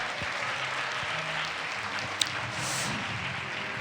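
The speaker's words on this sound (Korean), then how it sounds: "큰 박수 부탁드립니다." An audience at a university admissions briefing and career concert in a hall claps steadily to welcome a speaker to the podium, a dense continuous applause at moderate volume with no talking.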